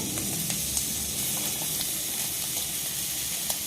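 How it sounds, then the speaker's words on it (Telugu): Tomato, green chili, onion and garlic pieces frying in a pan for white sauce chicken pasta, giving a steady close sizzle and hiss with faint crackles throughout. "ఇలాగా అన్నీ కలిపేసుకుంటే చక్కగా వేగుతాయి"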